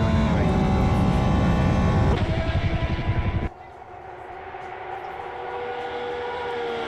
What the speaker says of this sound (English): Corvette is really loud.